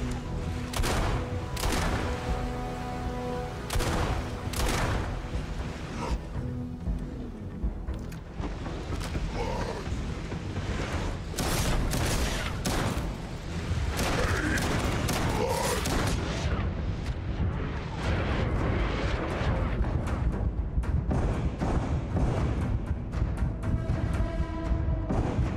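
Gunfire and heavy booms in the sci-fi video game Starfield: Shattered Space, a dense, continuous battle of repeated shots and explosions with a faint voice now and then.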